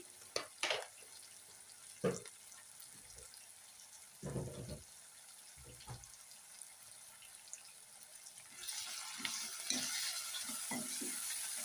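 Half a tablespoon of ginger garlic paste fries in a pan for a tomato curry, with scattered clinks and scrapes of stirring at first, then a steady, close sizzle swelling in the final seconds.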